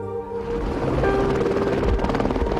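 A Utah Department of Public Safety search and rescue helicopter flies overhead in desert canyon country, its rotor chop loud and continuous and growing stronger over a few seconds.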